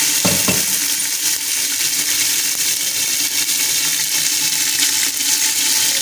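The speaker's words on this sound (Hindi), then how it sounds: "और पेस्ट डालेंगे यहाँ पर हम लहसुन अदरक और इसको भूनेंगे बहुत अच्छे तरीके से।" Garlic ginger paste sizzles in hot oil for beef paya, a steady bright frying hiss close up with a couple of stirring scrapes near the start and no talking.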